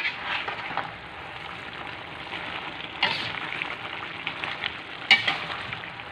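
Meat for adobo sizzles and bubbles as it simmers in a pan with little water, a steady crackling hiss close by, with occasional stirring scrapes and a sharp clink.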